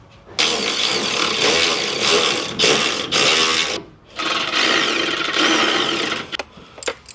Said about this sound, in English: And then we'll hit it with a T40 straight down and get it going.